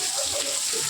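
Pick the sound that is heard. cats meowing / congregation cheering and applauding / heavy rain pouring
heavy rain pouring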